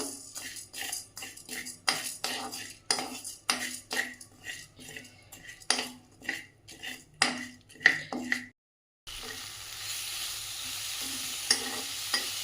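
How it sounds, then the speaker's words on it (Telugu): Urad dal fries in oil in a pan with a steady sizzle, broken by repeated stirring scrapes and clinks of a utensil against the pan; a brief silence falls midway before a broader, continuous frying hiss resumes for a chutney. "ఈ మినపప్పును కూడా కొంచెం కలర్ చేంజ్ అయ్యే వరకు వేపుకోవాలండి"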